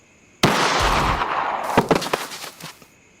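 In a dramatized robbery scene, a single sharp gunshot blast is followed by a decaying rumble and a few scattered crackling echoes. The sound is loud and close, with no speech over it.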